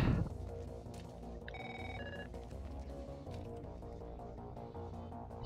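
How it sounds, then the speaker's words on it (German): A telephone rings inside the Rainbow Six Vegas 2 video game, a short electronic trill that cuts briefly through the dense game soundtrack and ambience. "Telefon."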